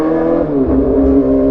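A motorcycle fitted with an aftermarket Petir exhaust revs nearby, a loud, throaty engine note that rises and settles with strong low rumble and steady harmonic drone.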